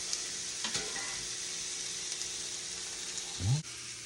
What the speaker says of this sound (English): I'm just sauteing some onions